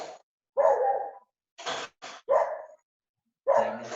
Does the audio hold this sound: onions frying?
no